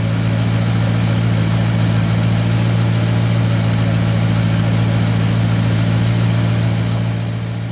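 A Maserati GranTurismo engine idles steadily at a warmed-up state, a low, even hum with a strong constant drone throughout and no revving.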